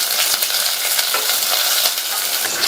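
Crushed garlic and slit green chillies sautéing in hot oil make a loud, close, continuous crackle with light stirring scrapes and no voices.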